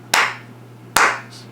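A person claps their hands during a live satsang devotional session, making two sharp, close, loud claps almost a second apart over a low steady hum.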